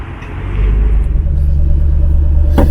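A 2011 Ford Mustang Shelby GT500 with the SVT package, supercharged, rumbles with a deep, steady low idle close by, holding loud and even throughout.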